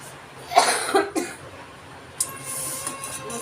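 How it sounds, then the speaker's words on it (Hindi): A woman at home coughs with a lingering cough: two or three harsh, close coughs in quick succession, followed by quieter household background noise. "खांसी नहीं ठीक होती रात"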